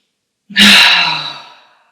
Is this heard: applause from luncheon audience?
no